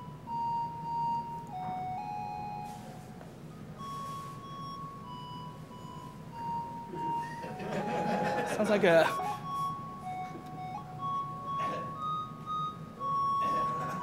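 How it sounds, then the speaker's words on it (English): A simple melody of Twinkle Twinkle Little Star in thin, beep-like electronic tones steps from note to note with artistic liberties over a noisy background, with a brief bit of talking partway through. "a very nice rendition of Twinkle Twinkle Little Star with some artistic license thrown in there"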